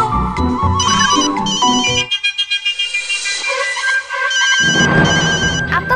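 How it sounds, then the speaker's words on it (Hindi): A mobile phone ringtone plays loudly in a home scene from a Hindi TV comedy, a repeating melodic tune with bright tonal bursts that stops briefly mid-way and then resumes, with some music underneath. "आपका फोन बज रहा है।"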